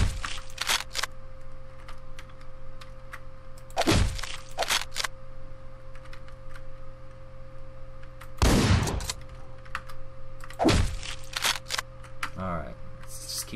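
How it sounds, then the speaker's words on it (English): Shotgun blasts in the top-down action game Hotline Miami: four loud, sharp bursts spread across the stretch, with a steady in-game music drone underneath and a short scraping sound near the end. "I just point blanked him with a fucking shotgun."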